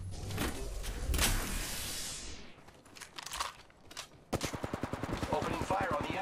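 Gunfire in the shooter game Apex Legends: a loud burst of shots up front, a rapid run of automatic fire near the end, and scattered game effects in between.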